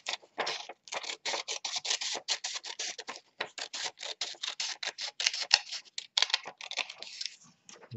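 A strip of paper about two centimetres wide being cut off with scissors, heard as a dense run of crisp snipping and rustling strokes, close and fairly loud, with no voices.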